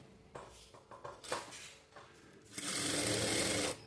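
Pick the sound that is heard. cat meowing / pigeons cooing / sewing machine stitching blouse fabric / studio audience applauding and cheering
sewing machine stitching blouse fabric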